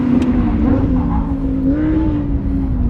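A Lamborghini Huracan with four-wheel drive on a technical race circuit, its engine a loud, steady in-cabin roar holding a sustained high note that shifts slightly in pitch through a corner.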